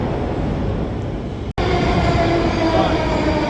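A Moscow metro subway train rumbles loudly and continuously up close, with a sustained roar, faint tonal squeal and a brief dropout partway through; no clear talking stands out over the noise.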